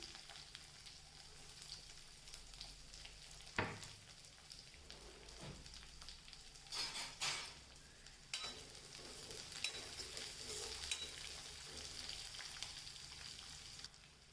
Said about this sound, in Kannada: ಸಾಸಿವೆ ಹಾಕಿದ್ಮೇಲೆ ಒಂದು ಸ್ವಲ್ಪ ಕರಿಬೇವು ಅದಾದಮೇಲೆ ಈರುಳ್ಳಿ ಇದ್ದೀನಿ